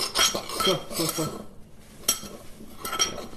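A utensil stirs a bowl of mixed BBQ rub spices and salt in bursts of clinking scrapes against the dish, with a brief pause midway. A person speaks quietly once.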